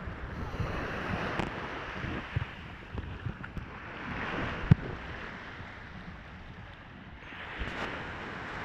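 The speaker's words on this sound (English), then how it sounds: "This is a beach Las Americas, and the Papagayo Disco." Surf washing onto the beach at Las Americas, Tenerife, near the Papagayo disco, a steady broadband wash with soft swells and wind buffeting the microphone, one brief thump midway.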